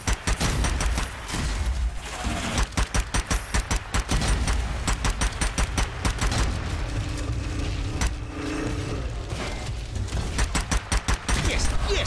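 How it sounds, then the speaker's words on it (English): Rapid bursts of gunfire from the video game Strange Brigade, set in the Great Pyramid, crackle in a dense, continuous barrage across the whole stretch, loud and close with little pause between volleys. "fantastic shooting!"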